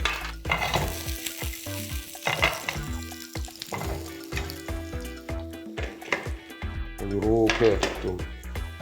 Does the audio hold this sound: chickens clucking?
no